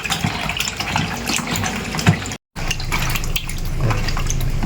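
Running tap water gushes steadily over catfish being rinsed in a home kitchen while cleaning off the slime, with a brief dropout midway and no talking.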